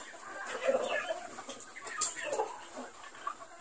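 A pure Boston Roundhead gamefowl rooster of the Esculin line clucks and murmurs nearby in a series of short, uneven calls, fairly quiet against a soft background.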